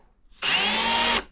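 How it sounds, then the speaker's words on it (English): Power drill running at high speed as it bores a 7/8 inch hole, a single steady whirring burst of under a second that starts and stops abruptly in a quiet room. "I like having it at high speed, and just drill through."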